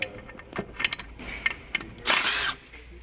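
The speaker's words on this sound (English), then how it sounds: "we're gonna remove those two 10mm bolts that hold that little coolant tube right there" A hand ratchet works on 10mm bolts holding a small coolant tube during a Pentastar water pump swap on a Jeep Grand Cherokee, giving close, loud bursts of clicking pawl sounds with short pauses between.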